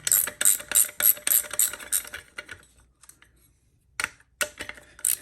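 Wrench or socket ratchet working the 14 mm bolts on the rear sprocket of a Honda Monkey, sharp metallic clicking bursts in quick runs, a pause, then a few more clicks close by.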